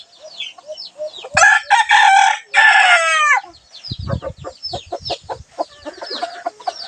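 A rooster crows loudly twice in succession, followed by hens clucking and chattering close by.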